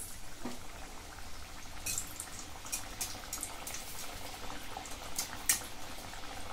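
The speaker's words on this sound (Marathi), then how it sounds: "त्यात आपण वडे तळून घेऊ" Steady bubbling sizzle of chicken vadas frying in hot oil in a kadhai, with sharp crackles and pops scattered throughout, close up and continuous.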